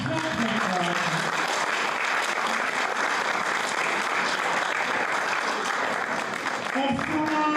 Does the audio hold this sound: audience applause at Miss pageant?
yes